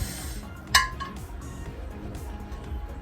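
A single bright glassy clink as a handmade Murano glass garden flower is turned over, one sharp near knock over low steady background hum, with no talking.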